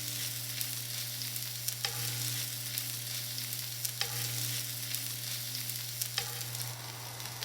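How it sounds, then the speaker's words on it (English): Thin beef slices searing in hot olive oil in a pan for Mongolian beef, a constant loud sizzle with a low hum beneath and three sharp pops or taps spaced a couple of seconds apart, no voices. "Let's carefully lay the meat away from you into the pan."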